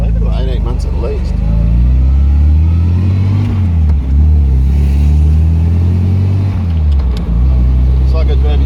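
A classic MGB car engine idling steadily on choke after sitting unused for about two years, a loud, close, low rumble that wavers slightly in pitch, with someone talking over it.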